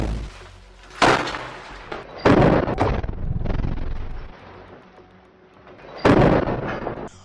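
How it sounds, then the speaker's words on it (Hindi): Rockets fired at an IDF tank by Hamas fighters, followed by heavy gunfire in an urban street battle: several loud, sharp blasts with rumbling, crackling fire between them, continuing for several seconds. "और यहीं से फिर आईडीएफ और हमास के बीच ताबड़तोड़ गोलीबारी शुरू हो जाती है"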